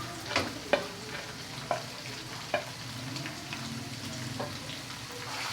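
Chopped tomatoes frying in a pot for beef pulao, a soft continuous sizzle punctuated by several clear scraping knocks of a spoon stirring, close and without speech.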